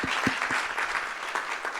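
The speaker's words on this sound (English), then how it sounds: "Clap it up for that." Students at a Greek-life transfer forum break into brief, steady applause, a dense wash of many hands clapping at moderate loudness with little else over it.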